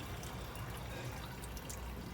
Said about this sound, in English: The tap's open.